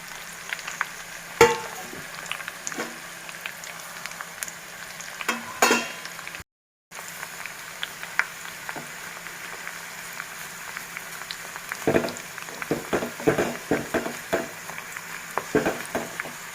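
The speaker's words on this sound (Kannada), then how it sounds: "ಕುದೀತಾ ಇದೆ, ನಾವು ಈ ಎಲ್ಲ ಗಿಡಮೂಲಿಕೆಗಳನ್ನ ಇದಕ್ಕೆ ಹಾಕ್ಕೊಳ್ಳೋಣ." Dried herbs and stems bubble in homemade hair oil heating in a pot on a gas stove. Close, continuous crackling sizzle with scattered sharp pops that grow busier toward the end, with no talking.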